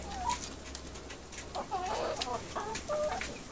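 An Araucana hen clucks softly in short, repeated bursts, close by in a greenhouse coop, with no talk over it.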